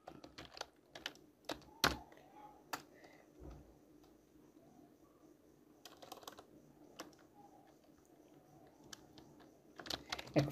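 Someone types on a computer keyboard during a Python coding session. Irregular bursts of crisp key clicks are separated by pauses, with a few sharper taps, recorded close and fairly quiet.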